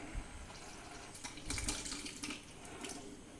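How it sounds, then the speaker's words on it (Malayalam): Cooked jackfruit seeds and water are poured into a pot of raw mango curry, giving a soft splashing, trickling pour that swells briefly in the middle, close and quiet. "ഈ ചക്കക്കുരു വെന്തത് ഇനി ഇതിലോട്ട് ഒഴിക്കുക"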